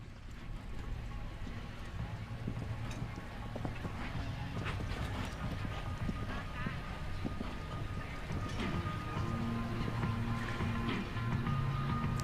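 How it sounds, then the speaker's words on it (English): A ten-year-old athletic, rangy horse's hooves drum during a show jumping grand prix at an international Nations Cup event in Ocala, a steady rumble of hoofbeats under constant arena noise. "He's a really athletic, rangy going horse."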